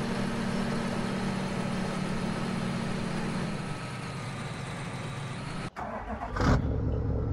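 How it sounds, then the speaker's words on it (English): A truck engine runs steadily and close by for about five seconds with a low, even drone. It then cuts off abruptly, leaving a brief quiet gap before a short final burst of noise. "on my beautiful truck"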